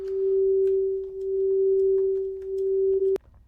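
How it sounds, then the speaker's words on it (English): A singing bowl rings a single sustained pure tone, loud and close, swelling and dipping in slow pulses before cutting off abruptly near the end. "So here's what I did with the singing bowl sounds."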